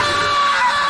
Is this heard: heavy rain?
no